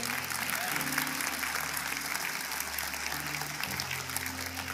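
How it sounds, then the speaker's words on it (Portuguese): A church congregation claps steadily in sustained applause, with a low sustained instrumental tone underneath. "Pode aplaudir ao Senhor."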